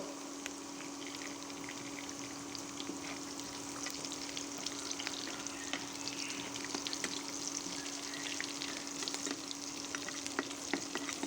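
Onion and cashew nuts fry lightly in a pan, with green chillies, while shrimp ghonto is cooked. A steady, even sizzle runs throughout, with small scraping stir sounds and no talking.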